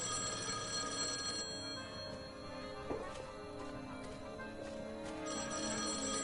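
A telephone bell rings in the Destroy All Humans! 2: Reprobed game, a steady ringing tone layered over dense game music and background noise throughout.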